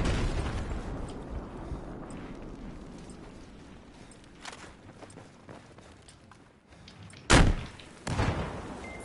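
In Battlefield 4, a tank takes explosive hits as rumbling battle noise gives way to two loud, sharp blasts close together near the end, each followed by a booming decay.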